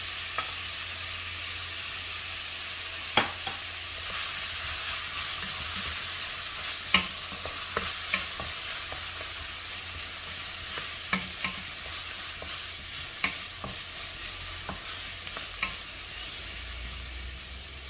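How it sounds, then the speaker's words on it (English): Onions with a pinch of salt sizzle and fry steadily in a pan for a bindi masala, with a spoon scraping and stirring at irregular intervals, close and clear with no talking. "Give it a good stir. A little bit of salt for the onions to cook."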